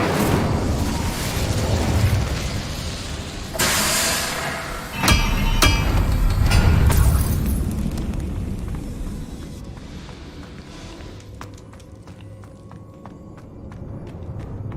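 A fire spell cast in the video game Hogwarts Legacy, a loud whooshing, crackling burst with sharp impact pops, then a fading rumble that tails off under game ambience.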